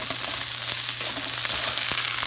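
Pork stir-frying in a pan gives a steady, close sizzle that continues evenly throughout, with a low constant hum underneath and a few brief clicks.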